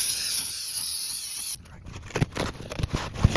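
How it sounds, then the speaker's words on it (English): Carb cleaner hisses from an aerosol can in one loud, continuous spray of about a second and a half onto a rear differential, followed by faint clinks and handling noises. "Let's use our carb cleaner."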